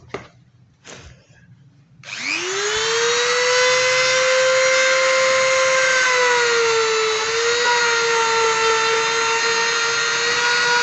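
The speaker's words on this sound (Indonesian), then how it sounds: "Ini digerinda rata biar pori-porinya terbuka." An angle grinder spins up after a couple of knocks and holds a loud, high, steady whine as it roughens a smooth surface before gluing.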